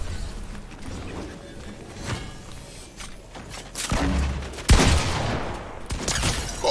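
Gunfire in a Fortnite match with Clix, NickMercs and SypherPK: scattered shots and bursts crack over busy game noise, with a heavy thud and a loud blast in the middle.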